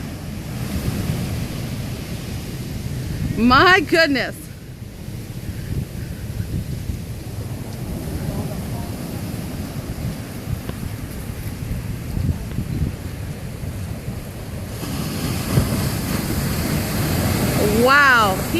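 Ocean surf washing up on a Maui beach, a steady broadband roar of breaking waves with louder surges near the end, as a person briefly exclaims over it.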